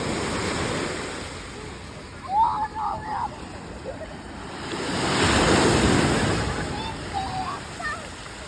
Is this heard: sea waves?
yes